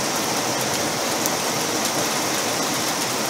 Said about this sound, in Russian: О, дождик.